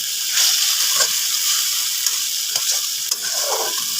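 Turmeric and spices being stirred in a hot pan, a steady hiss of frying with scraping spoon strokes running throughout, close and fairly loud, no talking.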